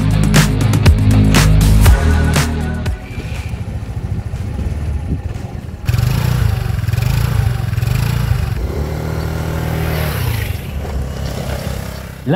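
SYM Orbit 125 scooter on the move, a close, loud engine drone with shifting revs, rushing wind and road noise, and a few clattering knocks near the start.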